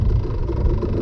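A Yamaha YZ250 two-stroke dirt bike with a leaned-out jetting setup rides in gear, producing a loud, close, continuous engine rumble with a rough, buzzing drone.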